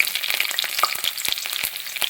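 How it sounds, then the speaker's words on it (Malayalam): Dense, rapid crackling and popping of mustard seeds spluttering in hot oil with chopped garlic, continuous and close, with no voices. "നന്നായിട്ട് കടുക് പൊട്ടി വരുന്നുണ്ട്"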